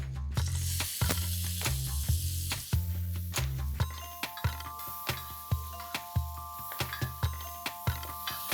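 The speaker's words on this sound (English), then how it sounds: "Let's heat a tablespoon of olive oil and simply saute these chilies till they slightly discolor" Green chillies sautéing in a tablespoon of olive oil: a steady sizzle with repeated sharp clinks and scrapes of a utensil stirring in the pan, close and fairly loud, no voices.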